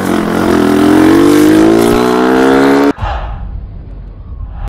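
A motorcycle engine revs loudly and steadily up close for about three seconds, pitch climbing, then cuts abruptly to a low idle rumble.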